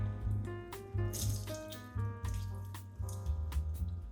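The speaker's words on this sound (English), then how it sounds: "I'm just gonna wring it out, some of that excess water" Water drips and splashes in uneven bursts as a wet human hair wig is wrung out after washing, a quiet close-up trickle repeating about once a second.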